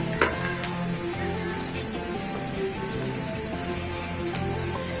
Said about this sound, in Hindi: मीडियम फ्लेम पर हमें प्याज को अच्छे से फ्राई करना है।